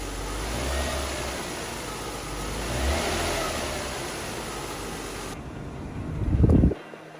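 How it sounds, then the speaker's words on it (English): A Lexus IS200, freshly fitted with a new timing belt and with its oil leak repaired, idles with a smooth, steady hum, then gives a short rising rev before cutting off abruptly. "So the car is running perfect and smooth as butter."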